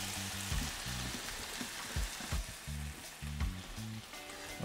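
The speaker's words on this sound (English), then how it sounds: "My potatoes aren't burning, they're not turning brown yet, because everything is just low." Potatoes cooking on low heat in a pan for a Jamaican curry shrimp dish, a faint, steady crackle of frying beneath repeated low hum and soft clatter, with no speech.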